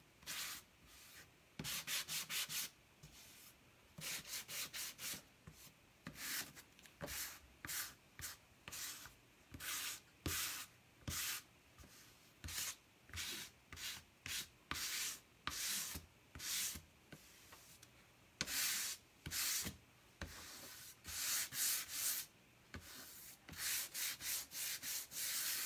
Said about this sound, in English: You'd be amazed at the difference just by that light rubbing on it.